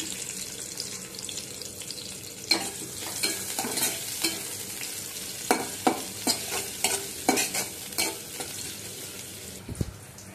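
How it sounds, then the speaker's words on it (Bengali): Chopped onions hiss and sizzle in hot oil in a pot with cumin, cooking for a pabda fish curry, punctuated by occasional scrapes and stirring clatters, fairly faint overall. "পেঁয়াজ কুচি দিয়ে দিলাম"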